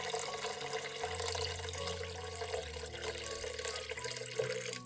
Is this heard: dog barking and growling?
no